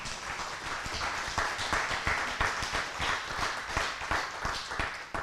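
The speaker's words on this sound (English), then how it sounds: "Keep in mind you're applauding yourselves." Steady applause from a church congregation, many hands clapping in a dense, even patter that continues throughout at moderate volume.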